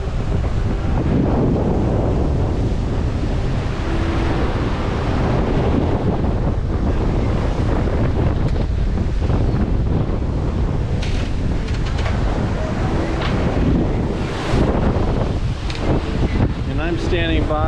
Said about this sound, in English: Wind has definitely come up as the sun's getting ready to come down.